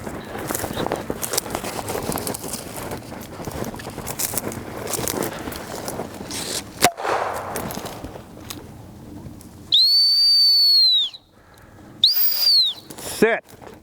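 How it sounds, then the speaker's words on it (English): A shrill dog training whistle blows in two bursts, a long steady blast followed by a shorter one, after a stretch of outdoor movement and rustling during upland dog training. "Be ready to stop them with the whistle."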